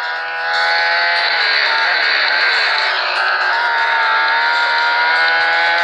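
Supercar racing engines in the Real Racing 3 mobile game whine loudly and steadily at high revs, one pitch bending briefly near the middle as another car passes, with no talking.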